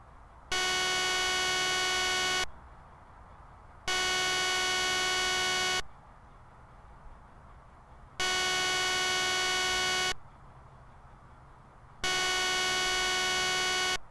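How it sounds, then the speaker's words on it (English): A periodic emergency-alert-style alarm from the video game Petscop 2: four loud, sustained harmonic tones, each lasting about two seconds, separated by short gaps of low background hum. "In the background we are met with an emergency alert system-esque alarm sound periodically"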